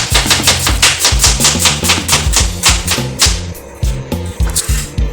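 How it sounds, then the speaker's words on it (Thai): A knife slices an onion into thin strips on a board, with quick, steady chopping strokes close by over low background music. "หั่นผักก่อนนะครับ หอมใหญ่ครับผม"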